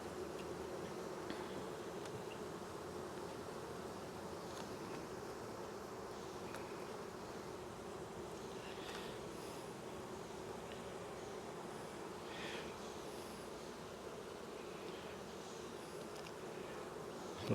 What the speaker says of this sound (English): still a significant amount of bees in here